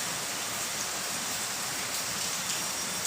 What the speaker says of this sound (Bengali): মুসুলধারে বৃষ্টি পড়ছে মুসুলধারে এরকম বৃষ্টিতে ঘর থেকে বেরোনোই সম্ভব না